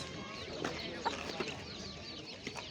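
Village chickens cluck in short, scattered calls at a busy poultry market, fairly quiet and mixed with low background chatter.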